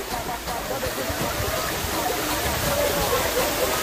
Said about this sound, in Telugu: సో ఇది కటికే వాటర్ ఫాల్